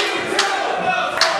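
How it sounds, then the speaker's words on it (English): A wrestling crowd at an I Quit match chants loudly and rhythmically, a dense, close roar of many voices with a few shouts standing out. "Oh, the crowd here chanting FU2."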